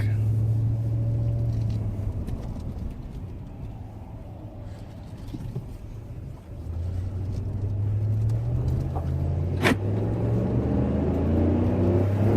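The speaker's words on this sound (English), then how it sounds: "Ram 1500 test drive. Let's burn those brakes in before we give it back." A 2011 Dodge Ram 1500 4x4 pickup on a test drive after a front brake job, its engine a steady low rumble and drone throughout, with a brief sharper burst near the end.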